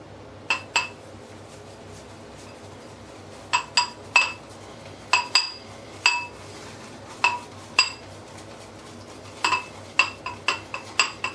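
A shaving brush works soap in a bowl, giving a string of short, bright clinks and scrapes in irregular bursts, close and moderately loud with no talking.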